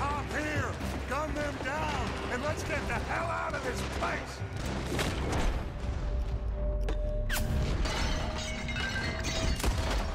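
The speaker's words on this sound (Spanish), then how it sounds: "¿Cómo suena cuando pegan los tiros en los... en las maderas, tíos?" In Red Dead Redemption 2 on PS5, gunshots strike wooden surfaces as sharp, scattered cracks and impacts. They rise over a steady bed of game ambience with voices mixed in.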